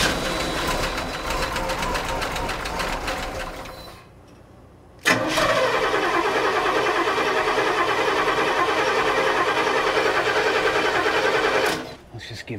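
A big-block V8 in a motorhome chassis, part of a 1955 Chevy COE build, runs loud and rough at first, cuts out briefly, then fires up again and runs steady and close, with a person talking over it.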